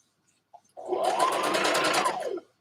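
Sewing machine stitching over the edge of a dress sleeve, one short burst of steady whirring needle noise about two seconds long, with silence before and after.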